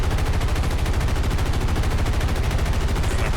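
Continuous rapid aircraft machine gun fire from a P-40 fighter in a WWII flight combat game, a loud, dense, unbroken rattling burst.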